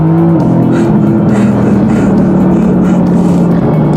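Mercedes-AMG GT S under full-throttle acceleration, a loud continuous engine drone heard from inside, pitch stepping up through gear changes and holding strong throughout.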